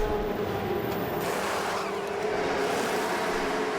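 An F1 car's engine drones steadily through a pit stop in F1 Manager 2022 at the Hungarian GP, a continuous mid-level whine with a brief burst of activity near the start.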